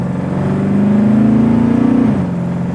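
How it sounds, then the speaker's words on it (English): A 1961 Ford Galaxie engine revs steadily, its pitch climbing and then dropping sharply at a gear change before settling back, loud and close with no talk over it. "Just kind of go through the gears a little bit."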